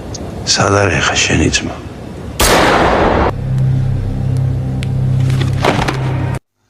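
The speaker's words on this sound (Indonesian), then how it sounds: "bajingan yang satu ini malah menembak Samsudin hingga modar" A gunshot in a dubbed action film (Extract) cracks out as one loud broadband burst lasting about a second, surrounded by steady rumble, engine-like drone and indistinct voices.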